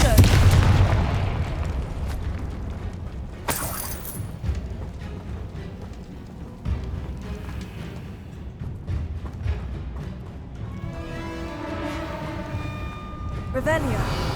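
In the Hogwarts Legacy video game, a Confringo blasting spell goes off as a sharp, loud burst partway through, set against game effects, low rumbles and a busy mix of other combat sounds.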